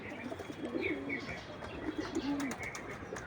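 Pigeons in a loft coo in low, repeated rolling calls, several birds overlapping at close range with a few faint chirps above them.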